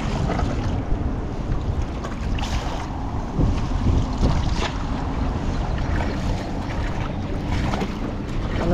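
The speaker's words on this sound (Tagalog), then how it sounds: "Uy, lakas ng hangin." Strong wind roars over open water during a boat trip, a dense, steady rush with buffeting against the microphone and no talk.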